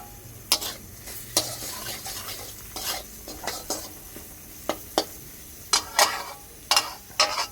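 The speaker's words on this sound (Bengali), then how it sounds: "ভালোভাবে কষিয়ে নেব।" Kashmiri chilli powder and spices being stirred and fried in a pan for khichuri, with repeated scraping strokes of a spoon over a soft steady sizzle, close and fairly quiet, no talking.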